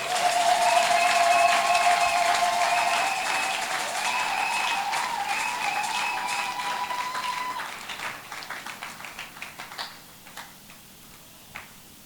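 An audience at a church children's sketch performance claps steadily, with music playing underneath, before the applause thins to scattered claps and a voice starts speaking.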